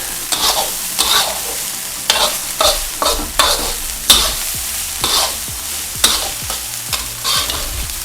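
Food fries in a pan while being stirred in steady, repeated scraping strokes over a constant loud sizzle, close by and with no talk.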